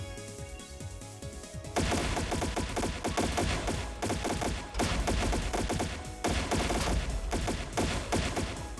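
Gunfire in the video game Trails in the Sky SC, dense rapid volleys of shots that erupt after a quiet musical opening and keep crackling loudly, close and continuous.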